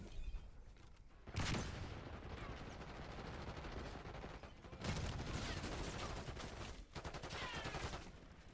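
Gunfire in Black Ops 6, with sustained machine-gun bursts and a rapid fusillade that cut in sharply and stop in abrupt blocks. The shooting is dense and continuous and sounds close but fairly quiet overall.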